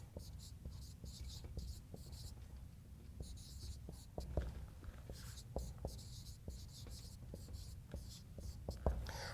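A pen scratches steadily across paper, close and quiet, with short strokes and small taps as small histogram curves are drawn. A faint hum sits underneath, and no one talks.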